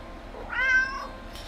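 A single cat meow from a video game, rising and falling over roughly half a second, moderately loud against a low, steady game background with no talking.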